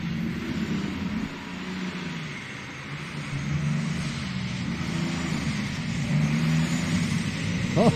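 A light modified class pulling tractor, 6,000 pounds and Allison-powered, roars continuously at a tractor pull event, a loud sustained engine drone building slightly toward the end.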